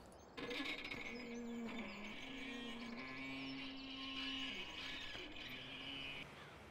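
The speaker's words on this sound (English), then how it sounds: "You hear that creaking versus this gate over here?" A farm gate in the Farming Simulator 17 video game creaks in a long, continuous groaning tone with shifting pitch, fairly loud and without talk, stopping abruptly near the end.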